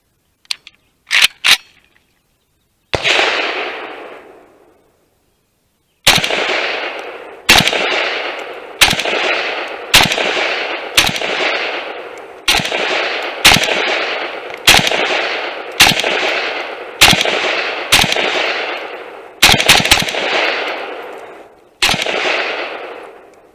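An AK63DS AK-47 rifle with an under-folding stock fires at an outdoor range: about fifteen loud, sharp single shots at an irregular pace, each cracking close by and trailing off in a brief echo.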